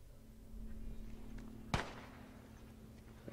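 Single distant gunshot in the video game The Last of Us, a sharp crack with a short fading tail standing out over low background hum.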